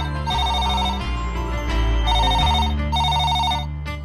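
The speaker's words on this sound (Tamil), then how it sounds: "ஏங்க, போன் அடிக்குது, வாங்க பாப்போம்." A telephone ringtone plays as a repeating electronic melody in several bursts over a low background hum, loud and close, with no talking.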